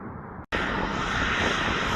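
A state trooper helicopter flies close overhead, a loud, steady engine roar that briefly cuts out and then returns at full strength, with no talk.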